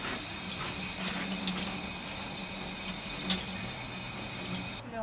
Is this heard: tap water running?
yes